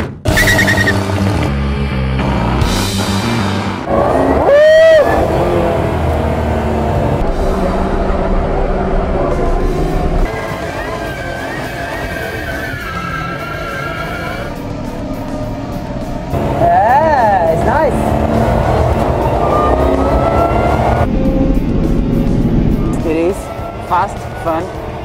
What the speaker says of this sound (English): So today we are here in the racetrack to drive the CX-75, the villain James Bond car.